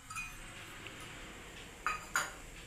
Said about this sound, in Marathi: तर आता हा गूळ घालून घ्यायचा आहे कढईमध्ये